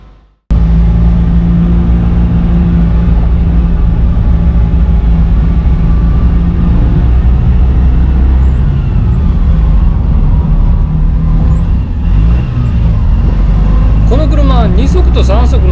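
A homemade kei camper van labours up a steep concrete slope in second gear, its engine a loud, steady close-up drone that holds throughout and rises in pitch near the end.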